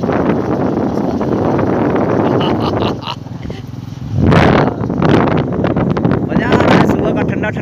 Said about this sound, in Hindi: अभी मेरे साथ गाड़ी चला रहे हैं